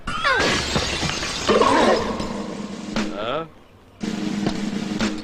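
A glass window shatters from a thrown stone with a sharp crash and scattering shards, surrounded by shouting voices and excited talk before and after.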